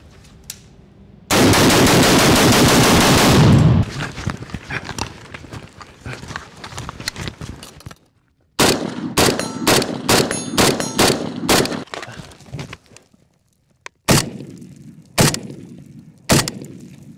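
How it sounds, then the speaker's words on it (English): A PSA AK-105 rifle fires in a loud sustained automatic burst and then in a series of quick sharp shot clusters with ringing clangs, close and outdoors, separated by short quiet gaps. "and that is shoot this AK-105"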